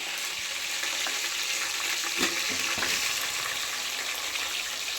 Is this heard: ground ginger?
yes